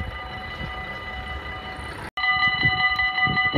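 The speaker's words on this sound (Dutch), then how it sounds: "We hebben uiteindelijk toch nog even één treintje." A train rolls past near the railway line at Sint Joost, a loud steady rumble and rush with ringing metallic tones, briefly cut off before resuming even louder.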